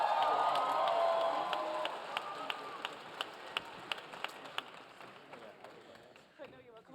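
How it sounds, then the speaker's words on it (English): An audience at a business talk on inclusive practices clapping and cheering, a dense burst of applause fading into scattered individual claps over a few seconds. "Give a big cheer."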